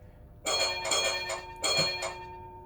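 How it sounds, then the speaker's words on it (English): A bell from a Zimo sound decoder fitted to an LGB holiday trolley rings in three bright, metallic rounds of rapid strikes, close and clear, with no talk over it. "there's a couple different bells"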